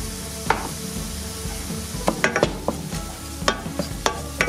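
Vegetables with turmeric and black pepper sweat in a hot pan with a steady sizzle, broken by several sharp clacks and scrapes as a utensil stirs them.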